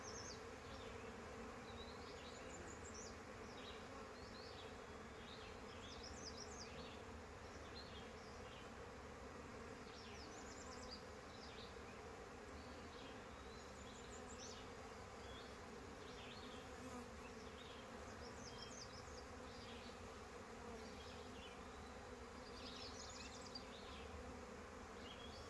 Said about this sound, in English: So you actually have some of the bees over here